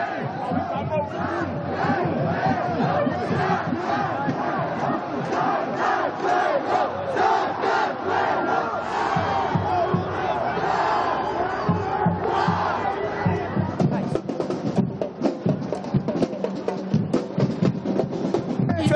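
Students at a pro-EU march, carrying flags along a central avenue toward Freedom Square, chant loudly in a dense crowd. Rhythmic shouting and massed voices run throughout.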